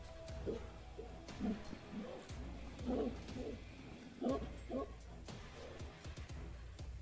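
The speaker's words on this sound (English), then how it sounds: "you're hearing the loud barking noises of the mastiffs that you all saw earlier" Mastiff dogs bark as a tabletop game sound effect, a string of loud, deep, growling barks and bays repeating irregularly in bursts over a low background rumble, with no talk.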